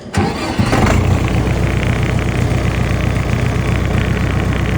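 A Jinma 404 tractor engine cranks briefly, catches and settles into a loud, steady, close-up diesel idle that runs unbroken to the end.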